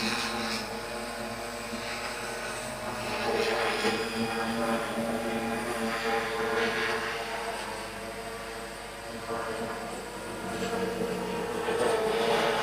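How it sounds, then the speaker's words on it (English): A multirotor drone flies overhead outdoors during payload-carrying operations, its propellers giving a steady, loud buzzing drone with fluctuating whine as it moves, joined by faint background noise throughout. "I will come a little bit closer to the drone so that you can see it in action flying in the air."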